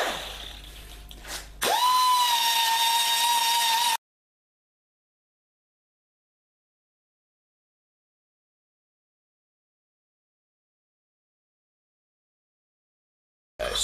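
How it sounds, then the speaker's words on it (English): A die grinder bites into metal while a part for a homemade plastic injection molding machine is being shaped, giving a loud steady high whine for about two seconds. It then cuts to silence, and a brief burst returns at the very end. "I'm going to be using good old die grinder."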